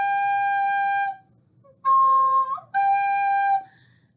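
Three sustained flute notes played with some fingers lifted from the holes, separated by short gaps and shifting in pitch, clear and close with no talk.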